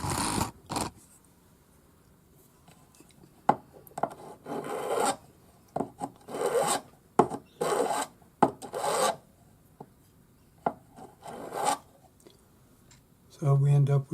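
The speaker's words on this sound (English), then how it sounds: "Now we're going to file the end smooth, just round it off a bit." A metal file rasps across the end of a pearl ring wire in short repeated strokes, bursts of scraping with brief pauses between them, close and fairly quiet.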